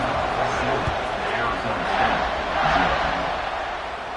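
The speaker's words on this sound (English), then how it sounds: "this crowd now ready to get behind them" A stadium crowd in the college football video game NCAA 26 roars steadily at kickoff, a dense, continuous wash of cheering under a commentator's voice.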